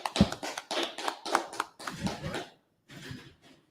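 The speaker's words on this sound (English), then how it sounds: "Clap it up, clap it up." A small audience at an indoor class claps in short, uneven bursts, fairly close, dropping into brief gaps before a few last scattered claps.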